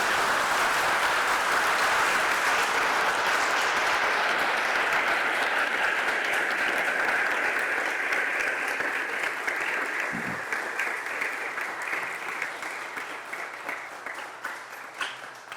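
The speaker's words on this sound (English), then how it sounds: "So let's give a round of applause to Judge McShan" Audience at a high school mock trial state final breaks into long, full applause that stays dense for several seconds, then gradually thins into scattered individual claps as it dies down.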